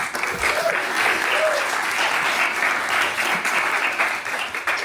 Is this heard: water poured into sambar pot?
no